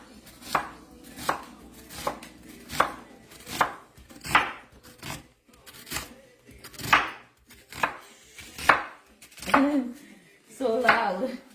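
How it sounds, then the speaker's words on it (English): A knife chops onions on a cutting board, giving about a dozen sharp, close knocks at a steady, unhurried rhythm, with faint talk in the room. "Cut up some onions."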